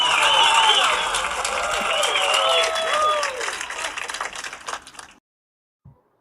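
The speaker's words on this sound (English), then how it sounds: "I gotta get the white people to clap it up for A.W. Byrd this time." An audience claps and cheers for a spoken word performance on a morning radio show, loud applause mixed with voices, tapering off before cutting to silence.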